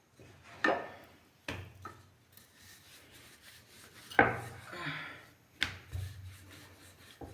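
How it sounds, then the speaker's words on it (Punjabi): Rolling pin working a paratha on a wooden board, with repeated rubbing, rolling strokes and a few sharp knocks, close and fairly quiet, with no talk. "ਹੁਣ ਆਪਾਂ ਤੀਜਾ ਪਰੌਂਠਾ ਵੇਲ ਲਿਆ"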